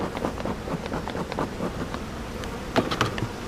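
A honeybee colony hums with a dense, steady buzz during a hive inspection, with individual bees flying close past and some brief handling noise partway through.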